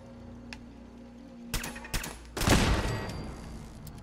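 Turret gunfire in the video game Fallout 4: a few sharp isolated shots followed by a louder rattling burst that trails off, with no talking.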